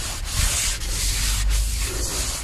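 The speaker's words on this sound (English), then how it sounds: "Obrišemo znači brake cleanerom tu masnoću." Rag or cloth wiping grease off Volkswagen Passat B6 brake parts with brake cleaner, a steady close rubbing and scrubbing texture with brief strokes, no talking.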